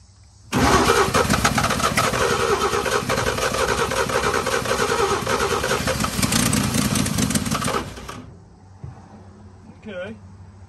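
A 1952 Chevy dump truck engine turns over and roars loudly for several seconds at close range, then cuts out, with a voice speaking afterward.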